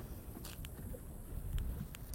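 A small fishing boat's outboard motor labours faintly at sea off Liepāja, a steady low rumble under constant wind noise with brief gusty bursts.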